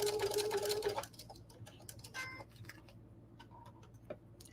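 A sewing machine runs steadily for about a second while stitching a quarter-inch quilt seam, then stops and leaves faint clicks and light handling noises close by.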